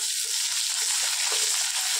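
Lentils, curry leaves and sliced onion frying in a pan, a steady close sizzle with faint stirring clinks, no talk.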